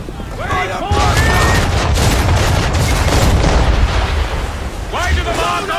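A ship's cannon volley in Assassin's Creed 3 erupts into a sustained, loud roar of booming fire lasting several seconds, with shouted voices just before and after.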